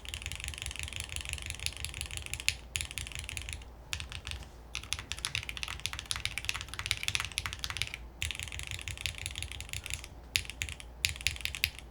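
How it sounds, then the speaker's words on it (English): Steady, fast typing on a HellCat Alice Mech-01 mechanical keyboard with blue cheese switches, with dense clacking keystrokes close up and a few brief pauses, no voices. "these are the deeper blue cheese switches"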